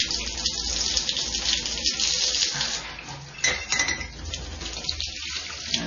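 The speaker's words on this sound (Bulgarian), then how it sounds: "И ето топла вода пускам" Hot water runs steadily from a kitchen tap into a sink, a close, continuous rushing with small clinks of glassware against the basin.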